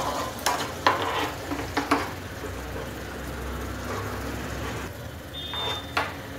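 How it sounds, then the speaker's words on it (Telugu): Red chilli powder and tomato puree fry on low heat in a pan for a pizza sauce, a steady soft sizzle broken by a few scraping stirs near the start and one short high squeak near the end, no voices. "కొన్ని సెకండ్ల పాటు దీన్ని ఇలాగా సిమ్లో పెట్టుకొని మనం ఫ్రై చేసుకోవాలి"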